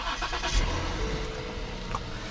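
A Lincoln MKS car engine cranking and catching, a low rumble with a brief start-up surge near the beginning, then a steady idle with a check engine fault present.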